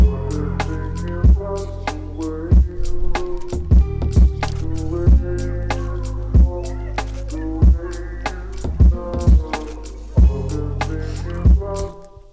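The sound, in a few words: lo-fi beat playback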